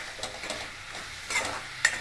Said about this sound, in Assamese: এতিয়া মোৰ শাকখিনি ভাজি লোৱা হৈছে। চাওক কি ধুনীয়াকৈ ভাজা খাইছে